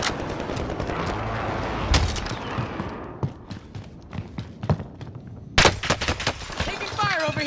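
Gunfire in Call of Duty Warzone, with bursts of rapid automatic shots and single sharp cracks in the game, loud and close at times, mixed with a talking voice.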